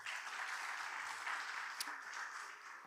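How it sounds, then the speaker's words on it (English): An audience at a mango conference claps for the National Mango Board, a faint, steady wash of applause heard from a distance with no voices over it. "So a big round of applause for the Mango Board."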